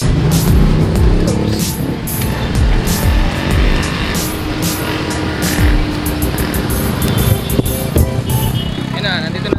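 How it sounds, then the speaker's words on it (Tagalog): Loud, constant road and engine roar from inside a moving jeepney in the Philippines, heard close up with rumbling traffic noise all around and voices faintly underneath. "Nakasakay na tayo ng jeep."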